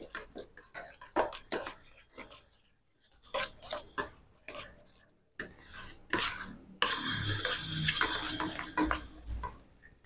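Milk is stirred in a bowl with a spoon, making soft scraping and light clinking strokes in an irregular rhythm, close and fairly quiet, with a faint liquid swish near the end.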